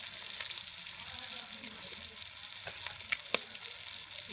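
Fish sizzling as it fries in a pan, a close, continuous crackling hiss with occasional sharper pops, heard alone at moderate volume.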